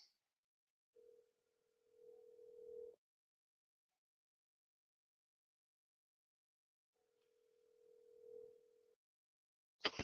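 Two long ringback tones sound on an outgoing sales phone call, separated by a long silence, clear and even. A short burst of noise at the very end suggests the line being picked up.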